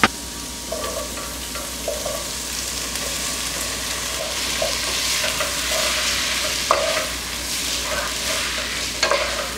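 Tomatoes sizzle steadily in a hot pan with sautéed onion and garlic while a utensil scrapes and stirs in short, repeated strokes.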